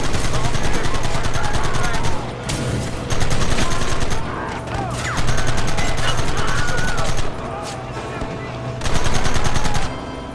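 Gunfire in Red Dead Redemption, loud, sustained rapid shooting from several guns in recurring long volleys with brief lulls, close and dense throughout, with voices shouting.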